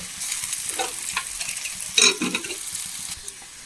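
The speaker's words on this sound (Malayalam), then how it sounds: "ഒരു അഞ്ചാറ് ചെറിയുള്ളി അരിഞ്ഞെടുത്തതാണ് ഒന്ന് മൂത്ത് വെക്ക്" Five or six chopped small onions (shallots) frying in a pan for a vegetable curry, a soft continuous sizzle with brief stirring scrapes and a louder burst partway through.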